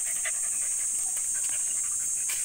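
A dog pants in rapid, steady breaths close by, a quiet rhythmic huffing under a constant high background hiss.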